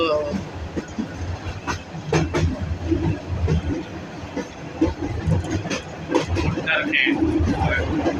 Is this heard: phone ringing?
no